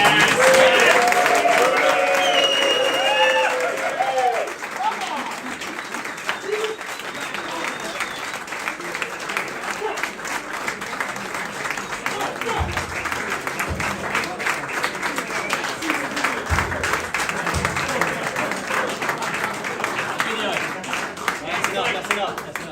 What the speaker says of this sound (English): give a big, massive South East congratulations, a round of applause to Mike Hindley, this year's club person.